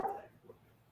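A dog barks once in the background, a short faint yelp at the start that quickly fades, heard during an online class session.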